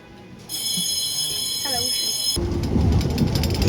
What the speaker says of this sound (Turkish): Şu anda tren hareket etti ve İstiklal tarafına çıkıyoruz